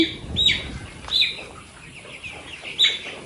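Young 22-day-old chickens on a poultry farm give three short, bright chirping clucks, spaced about a second apart, over a low rustling background with no talk.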